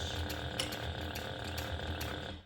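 A sewing machine back stitches through a vinyl handbag, giving a steady, fast run of mechanical clatter at close range with a few sharper ticks, continuous and without talk.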